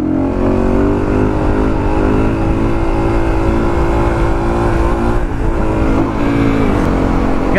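A warmed-up supermoto motorcycle engine runs loud and close, holding a steady buzzing drone with small throttle blips and slight rises in pitch toward the end.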